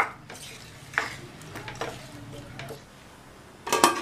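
A spoon stirring a mixture of water, ground spices and salt in a pot for a drumstick curry. Scattered scrapes and clinks against the metal rim, with a louder cluster of knocks at the end.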